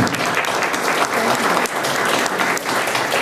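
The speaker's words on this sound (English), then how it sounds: "Would you give him a round of applause?" An audience at a talk on Haiti's recovery gives a round of applause, a dense steady clapping that stays loud and continuous throughout.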